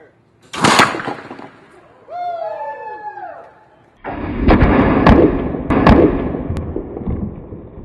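A 2x4 cannon fires a lumber projectile at a wall assembly during high-velocity impact testing: a sharp loud blast, a pause with a whistling tonal sweep, then heavy booming impacts and rumble.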